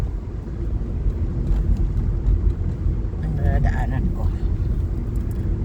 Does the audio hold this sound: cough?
no